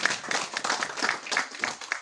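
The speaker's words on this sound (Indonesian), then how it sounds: "Tepuk tangan buat kita." A small group claps in irregular bursts at a PDI Perjuangan party gathering in Jati Agung, a short patter of hand claps that rises and falls.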